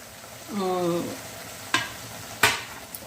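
Masala for stuffed brinjal frying in oil, a soft steady sizzle with a brief tonal scrape near the start and two sharp clatters of stirring later on.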